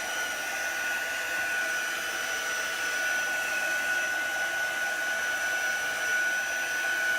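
A hair dryer blows steadily at close range, a constant even whoosh with a faint high whine, no talking.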